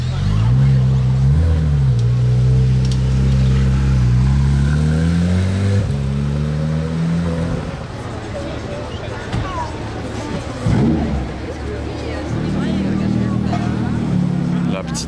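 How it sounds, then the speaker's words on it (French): The exhaust of a Porsche Carrera GT sports car revs loudly in a series of rising and falling engine pulls, fading to a lower idle before picking up again, with people talking beneath it. "Mais la ligne d'échappement elle sonne bien, hein."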